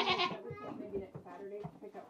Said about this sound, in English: What are you talking about, Mr. Goat?